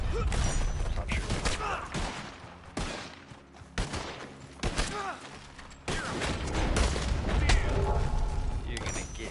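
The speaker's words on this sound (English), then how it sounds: "Stop shooting." Gunfire in the video game Red Dead Online: repeated loud shots and cracks in irregular bursts over continuous game noise, with a voice speaking in between.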